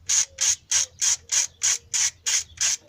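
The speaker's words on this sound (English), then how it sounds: "when it comes to a click type torque wrench like this one" A click-type torque wrench is worked on cylinder head bolts of a 2005 Nissan Sentra 2.5L, giving nine sharp, evenly spaced ratcheting clicks at a quick steady rhythm, close and clear with nothing else.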